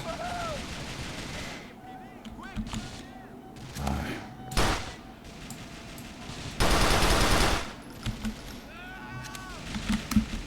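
Gunfire in the video game GTA: The Lost and Damned, a few sharp shots and a dense burst standing out over game ambience, with a voice talking in between.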